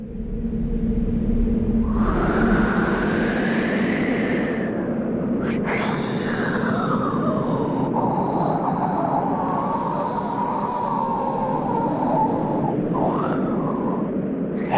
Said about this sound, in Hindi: हवाएं चल रही थी।